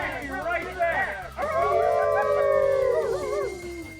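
A team of sled dogs howls and yips close by in a sustained, wavering chorus, with long rising and falling wails layered over excited barks for several seconds.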